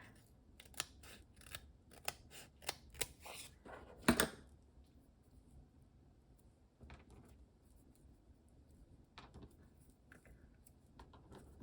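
Sharp quick snips of scissors cutting paper, about a dozen in a row, then quieter rustling and a few scattered snips.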